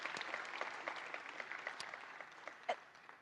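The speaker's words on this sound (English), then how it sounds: "Can we give her a big round of applause" Conference audience at the opening ceremony of an African philanthropy gathering applauds, a short burst of many hands clapping that gradually thins out, with one louder clap near the end.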